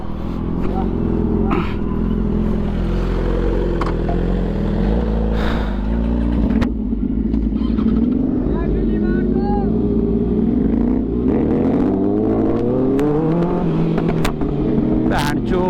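Sport motorcycles, a BMW S1000RR and a Kawasaki Ninja ZX-6R, rev and pull away in traffic, their engines rising and falling in pitch over a steady loud drone while people talk nearby.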